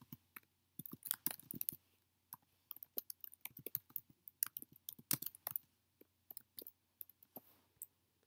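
Someone types on a computer keyboard, entering text into statistics software: quiet, close key clicks in irregular quick bursts, separated by short pauses.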